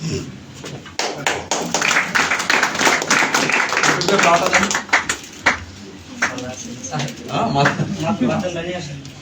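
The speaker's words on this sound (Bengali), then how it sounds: "জোরে হাততালি হবে।" An audience at a DXN business meeting claps in bursts of hand taps across the room, mixed with a speaker talking over it at moderate loudness.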